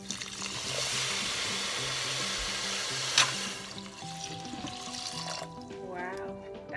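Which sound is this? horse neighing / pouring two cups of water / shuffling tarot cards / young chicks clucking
pouring two cups of water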